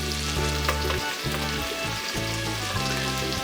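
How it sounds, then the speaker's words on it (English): About three pounds of flour-coated lamb meat for Irish stew browning in a pot, giving a loud, dense, continuous sizzle and crackle up close with faint stirring, steady throughout. "Our lamb is cooking up nicely."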